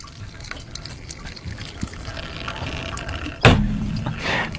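Urine trickles into a hat sitting in a toilet bowl in a radio studio, heard as faint intermittent dribbles and splashes that build to a sudden louder gush near the end.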